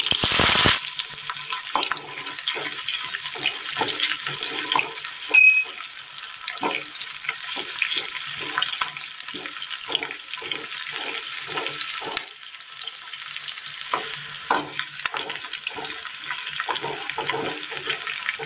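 Chopped onion and mustard seeds fry in a little oil in a small iron kadai, a close steady sizzle dotted with rapid crackles and pops throughout.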